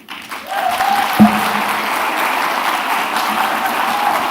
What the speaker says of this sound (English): can we give Dr. Obudo another round of applause? Another round of applause.